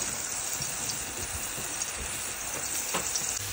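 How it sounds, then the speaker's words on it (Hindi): Ginger garlic paste sizzles in about four tablespoons of hot oil for a tempering, a dense, continuous hiss and crackle that stays loud and even from start to finish. "बघार के लिए हमने तकरीबन 4 टेबल स्पून ऑयल लेके गरम करके, और इसमें अदरक लहसुन का पेस्ट डाल दिया"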